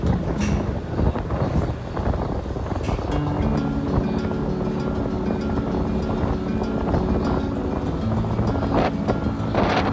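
Wind buffets the microphone on a long two-up motorcycle ride toward Dieng. A loud, constant rushing roar fills the whole stretch, with a steady engine drone underneath and no talking.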